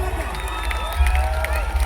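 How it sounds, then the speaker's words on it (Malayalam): An audience at a rural folk song performance cheers and claps, a loose, lively crowd roar with some shouting, moderately loud and continuous, carried over faint background music. "നമ്മുടെ മനുഷ്യന് വേണ്ടി ഒന്നുകൂടെ ഒരു ഉച്ചാറായിട്ട് കൈയടി വന്നേ"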